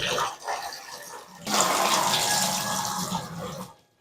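A bathroom shower running again after the water supply is turned back on, head aimed at the back wall of a renovated tub: sputtering bursts of water give way to a steady, close hiss of spray that cuts off at the end.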